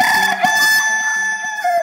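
A rooster crow rings out within a sung nasheed, a loud sustained cock-a-doodle-doo with a musical tone and steady accompaniment underneath.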